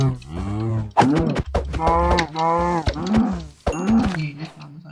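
Low, drawn-out moos from a blocky cow in the Minecraft video game, repeated several times close by and mixed with a voice talking over them.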